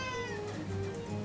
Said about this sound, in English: My cat says you should,